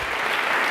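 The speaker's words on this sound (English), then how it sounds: "Let's have a round of applause for Jeff Bezos." Short burst of audience applause at the Internet Association gala, a dense, steady wash of clapping filling the brief moment without any voices on top.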